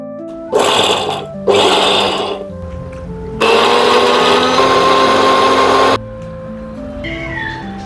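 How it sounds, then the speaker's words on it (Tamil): An electric mixer grinder blends onion, garlic and dried red chillies into chutney paste, two short loud whirring bursts followed by a longer steady run of about three seconds, close up, with no talk. "இதை நம்ம ஜாரில் சேர்த்துட்டு நல்லா பேஸ்ட்டாக அடிச்சிடலாம்."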